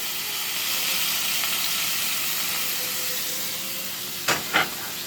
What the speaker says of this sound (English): I have bacon. And I'm just going to let it sit here and get all juicy and get brown and caramelized.